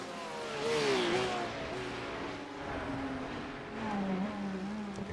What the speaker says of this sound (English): Hard on the brakes into turn number 7.